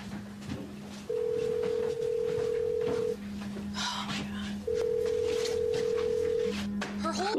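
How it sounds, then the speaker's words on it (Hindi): A mobile phone rings inside a bag, its repeating ringtone tones steady and fairly loud, with background voices and room noise around it. "उसका फोन बैग में बज रहा है।"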